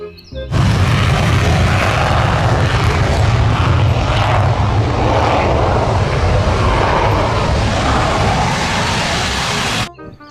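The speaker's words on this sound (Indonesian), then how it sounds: "Kalau yang ini namanya pesawat jet tempur, teman-teman." A fighter jet roars loud and continuous for about nine seconds, a dense broadband engine rush that cuts in abruptly and stops just as sharply, with no talking over it.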